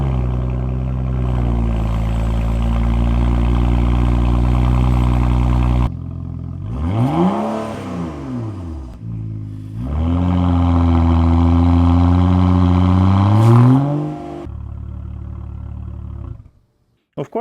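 A BMW 335i E92 with no muffler and a stainless steel catback exhaust idles with a deep steady drone, then revs twice in rising and falling sweeps before settling back, loud and close.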